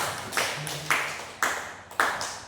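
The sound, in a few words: audience clapping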